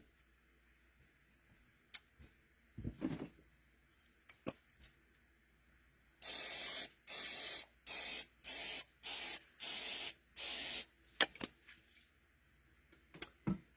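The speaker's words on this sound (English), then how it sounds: "I just use olive oil cooking spray" Olive oil cooking spray hisses out of a can in a string of about seven short bursts, loud and close, with faint handling clicks before and after.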